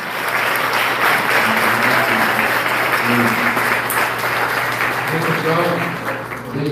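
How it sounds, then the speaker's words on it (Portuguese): A church congregation applauds loudly and steadily, a dense wash of clapping that holds throughout with a sustained low hum beneath and some indistinct voices mixed in. "Aplaude, aleluia."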